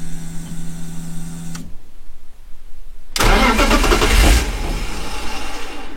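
A BMW 328 Ci E46 drift car's starter whirs after a steady electrical hum and a quiet pause, then the engine catches with a loud roar and settles into a rough, close idle.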